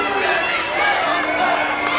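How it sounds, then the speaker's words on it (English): Wrestling crowd at the TNA Asylum chanting "Jerry's kid" at Brian Lawler during a 2003 NWA TNA match, a steady, loud arena roar of many voices filling the whole moment. "Brian Lawler not taking too kindly to the crowd here at the TNA Asylum with their chants of Jerry's kid"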